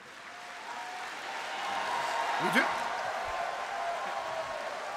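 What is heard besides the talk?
conference audience cheering and applauding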